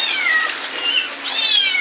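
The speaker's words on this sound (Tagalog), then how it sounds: "Oh, umiiyak na yung mga pusa ko." Cats meow repeatedly in long, loud, plaintive cries, close by and overlapping, with no talk.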